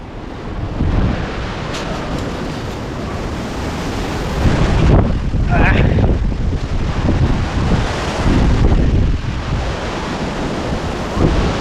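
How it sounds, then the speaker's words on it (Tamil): Strong wind blasts across a rocky hilltop, a loud, roaring rumble buffeting the microphone with gusts that swell and ease, while someone speaks over it. "இங்கே அவ்வளோ காற்று அடிச்சிட்ருக்குங்க"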